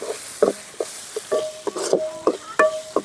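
Tomato with asafoetida and salt being sautéed in a pan for a peanut kulambu: a sequence of scraping, clinking stirring strokes over a light sizzle, close and fairly loud.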